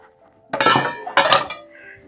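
Dishes and utensils clink and clatter in two short bursts while being washed in a home kitchen, close and fairly loud, with no one speaking.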